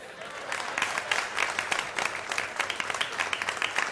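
An audience claps continuously throughout, dense and fairly close, with faint voices mixed into the applause.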